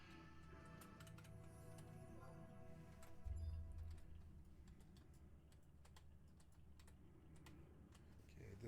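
Someone types on a computer keyboard during an MMO gaming session. Faint, irregular clicks and taps come in quick bursts over a low background hum and a soft steady tone.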